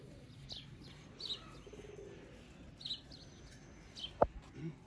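Soft pigeon coos drift in and out over a quiet outdoor background, with faint chirps and one brief sharp knock near the end.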